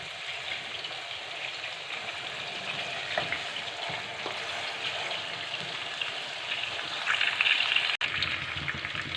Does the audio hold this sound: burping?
no